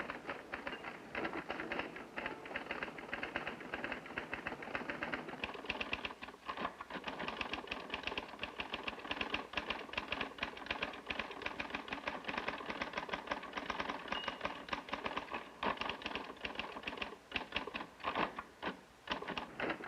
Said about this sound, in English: a typist who wants to improve her speed never stops doing typing drills